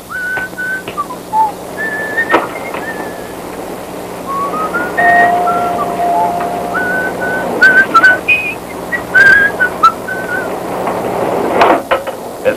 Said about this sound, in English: He uses it to whistle, tweet